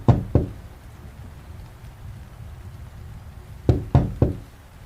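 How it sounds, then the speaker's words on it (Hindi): Knocks on a door, heard as a sharp double rap, then a pause, then three quick raps, loud and close in a quiet room with no voices. "एक दस्तक हुई।"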